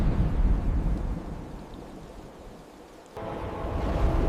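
A thunderstorm sound effect plays in an animated Vietnamese fairy tale: a deep rumble of thunder swells and fades over rushing wind and rain-like noise, then a sudden louder burst of storm noise, with no voices.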